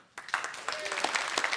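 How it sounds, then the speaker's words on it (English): A conference audience at a programming-languages keynote claps briefly, scattered hand claps building for under two seconds with a bit of crowd noise mixed in. "Clap for yes or silent for no."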